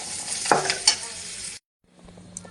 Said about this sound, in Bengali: আলু আর ছোলা ভাজা হচ্ছে